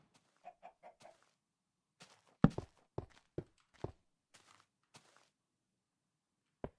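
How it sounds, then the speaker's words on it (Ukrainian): Video game footsteps: scattered soft steps in quiet surroundings, a few light taps at first, then heavier, irregular thuds before fading into silence. "Ти чуєш? Я чую. Я чую, хтось ходить."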